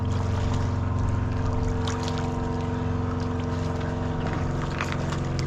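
A motorboat engine drones steadily nearby with a low rumble and even, unbroken pulsing, accompanied by some water and wind noise.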